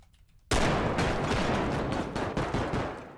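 Sudden loud gunfire erupts in a tactical shooter video game, a dense rapid volley followed by several more shots as the noise slowly tails off.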